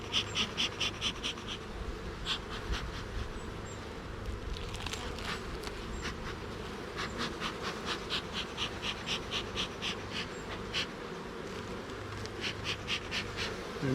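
Honey bees buzz around an opened hive with emerging brood, a steady close hum throughout, with sharper passes of individual bees flying near and irregular tapping and handling sounds.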